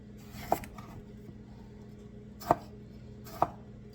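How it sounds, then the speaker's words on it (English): A knife chopping through a small tomato on a board, three distinct sharp taps spaced irregularly over a faint background hum, close and moderately loud. "Just chop the tomato up."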